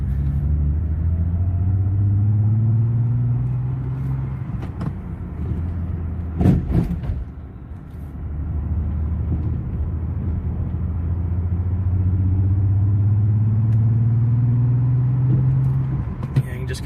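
A misfiring car engine idles with a rough, uneven low rumble, swelling in two long surges with a brief dip and a few knocks between, not running on all cylinders.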